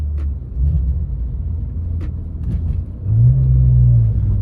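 A BMW E46 M3 with an SMG gearbox drives along, its engine a steady low rumble that swells into a stronger, deeper drone near the end, heard from inside the cabin with no talking.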